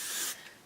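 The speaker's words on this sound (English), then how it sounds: "Again, spray the sides." Hairspray spritzed onto hair while styling a cheer ponytail: one short, close hissing burst that cuts off after about a third of a second, followed by faint rustle.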